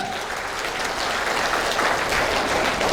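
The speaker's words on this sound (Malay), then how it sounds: "tepukan kepada Elkan" Audience applause at a gathering, dense sustained clapping from many hands filling the room at a steady level throughout.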